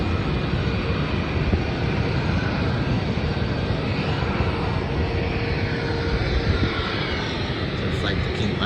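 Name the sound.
Rex Airlines 340 plane taking off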